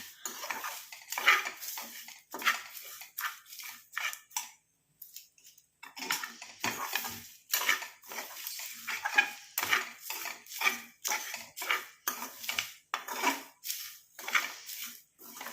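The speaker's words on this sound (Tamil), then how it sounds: "இந்த 3ஐயுமே நல்லா நம்ம ஃப்ரை பண்ணிக்கலாம்" Black cumin seeds and other ingredients frying in a pan, a utensil scraping and clinking against the metal in repeated close stirring strokes with short pauses, no talking over it.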